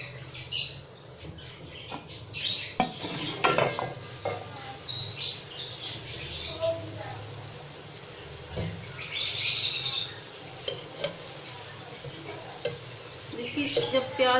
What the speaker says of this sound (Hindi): दरमियान में मैं वक्तन फ़क्तन स्ट्रेनर से प्याज़ों को मिलाती